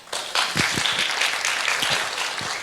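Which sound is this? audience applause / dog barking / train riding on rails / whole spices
audience applause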